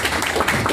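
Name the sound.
audience round of applause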